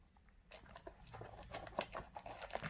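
Packaged model train wagon being unwrapped close up: soft, continuous crinkling and rustling of plastic packaging with small scratchy pulls, quiet and with no talking.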